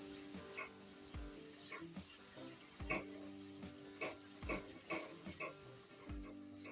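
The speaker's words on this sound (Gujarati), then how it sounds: "આપણે બધો મસાલો સરસ રીતના ડુંગળીની અંદર મિક્સ કરી લઈશું" Spice masala and red chilli powder stirred into frying onions for a Gujarati pea curry, with steady pan sizzle under repeated scraping spoon strokes against the pot, close and alone, no talk.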